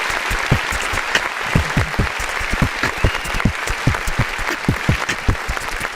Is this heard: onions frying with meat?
no